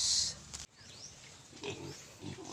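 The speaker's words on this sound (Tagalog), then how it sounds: "ito po yung ating tatlong baboy po dito sa isang kulungan ka-farmers" Three pigs in a farm pen grunt and oink around feeding time, a short squeal opening the clip before lower, softer grunts and shuffling sounds follow at close range.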